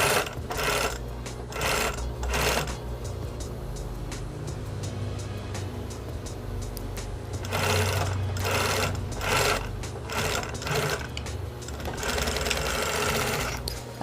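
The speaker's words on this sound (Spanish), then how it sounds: "lo cosemos al ancho de pata" Sewing machine stitching a seam in recycled fabric for a fringed bag: loud, close mechanical whirring in bursts, with steady running stretches and brief pauses between, no talk.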